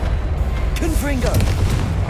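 A Confringo fire spell explosion in the Hogwarts Legacy video game, heard as a deep rumbling boom over continuous low game noise. A short voiced exclamation rises over the blast in the middle.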